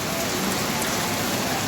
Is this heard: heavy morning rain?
yes